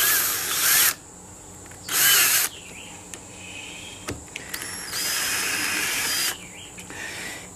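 Cordless power drill backing a screw out of a homemade TV antenna, several short loud whirring bursts separated by pauses, close up with faint handling clicks between.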